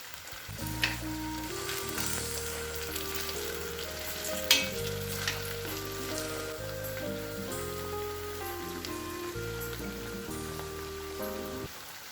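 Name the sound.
potatoes and onions frying in oil for a Spanish tortilla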